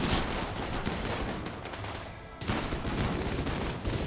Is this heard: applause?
no